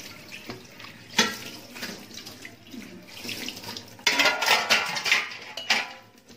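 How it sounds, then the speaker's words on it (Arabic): Glasses and dishes being scrubbed with steel wool under a running kitchen tap, water splashing steadily with clinking of glass and cutlery, growing louder and busier in the second half, no talking. "بحب اغسل المواعين يعني الكوبايات بالسلكه ديت بتنضفها قوي"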